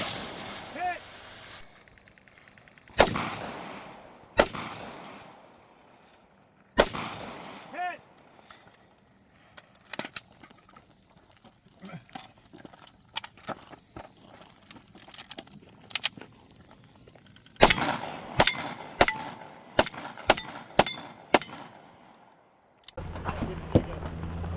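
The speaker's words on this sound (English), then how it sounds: "You had to shoot them from left to right as they appeared." Rifle shots at a tactical sniper match stage with six targets engaged left to right, sharp loud reports spaced irregularly, some in quick clusters, over quiet outdoor background.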